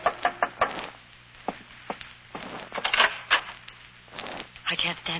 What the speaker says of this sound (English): a knock on the door changed my mind again